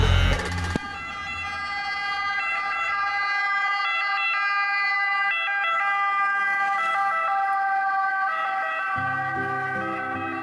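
A steady ambulance siren wails loudly and continuously, holding a sustained tone with a low engine rumble at the start and end.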